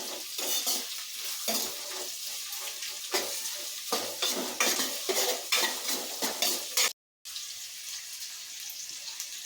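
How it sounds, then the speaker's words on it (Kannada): Chopped onions fry in a pan under a steady, close hiss while a spoon scrapes them in regular strokes; the sound cuts out completely for a split second before the sizzling returns. "ಈರುಳ್ಳಿ ಕಟ್ ಮಾಡಿಕೊಂಡು ಹಾಕೊಂಡಿದ್ದೀನಿ ಇದು ಸ್ವಲ್ಪ ಚೆನ್ನಾಗಿ ಫ್ರೈ ಆಗಲಿ"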